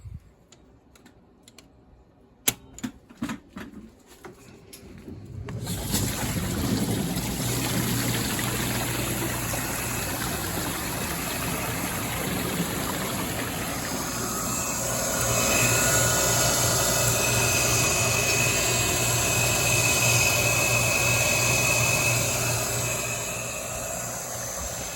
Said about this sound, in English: I feel the motor running, so I think we're good.